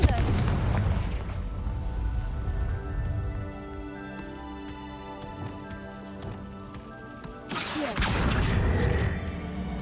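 A Confringo fire spell from the Hogwarts Legacy video game goes off with a deep booming blast at the start and a second surge of rumbling impact near the end, with sustained game music in between.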